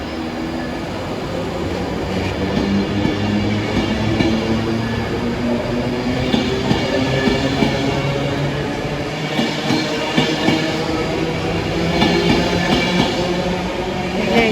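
A Class 390 Pendolino electric train heading out of Preston station toward London Euston, a steady loud rolling rumble of wheels and motors held close for the whole stretch, with no talk over it.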